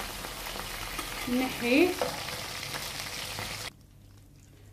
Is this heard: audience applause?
no